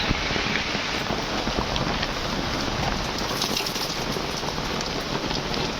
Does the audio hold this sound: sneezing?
no